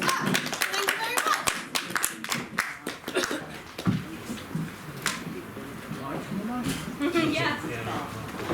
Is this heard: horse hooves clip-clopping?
no